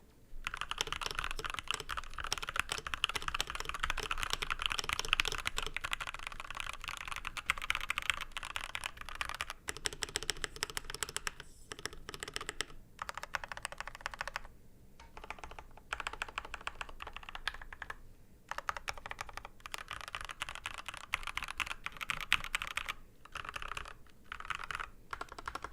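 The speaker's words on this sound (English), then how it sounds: "the typing on this keyboard was very satisfying" Steady, rapid typing on a Dustsilver mechanical keyboard fitted with Gateron Black switches, close and clear with dense clicky keystrokes and brief pauses, no voices.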